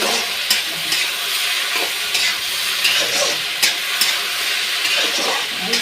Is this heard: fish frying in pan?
yes